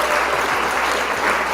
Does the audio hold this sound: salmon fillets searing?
no